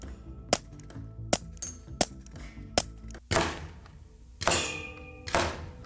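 Bullets from a .22 rifle strike wood at a shooting test, giving a series of sharp, irregularly spaced cracks and thunks, about eight hits, with short decaying rings between them, moderately loud and without talk.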